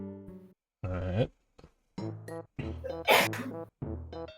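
In the SNES game EarthBound, a short, sharp sneeze sound effect bursts out near the middle, surrounded by bright chiptune music and other blippy game tones.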